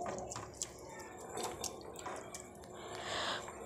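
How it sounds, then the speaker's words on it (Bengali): Flattened rice (chira) washed in water, with quiet, irregular splashes and drips close by and a soft swirl of liquid toward the end. "চিড়েতে আমি জল দিয়ে এটাকে ভালো করে ধুয়ে নেব।"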